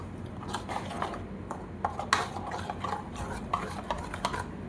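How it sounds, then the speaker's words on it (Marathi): Salt stirred into a tomato saar mixture, with a spoon scraping and clicking against the vessel in repeated irregular strokes, close and steady with no talking. "मिक्स करू आपण. त्यातच मीठ घालू आपण."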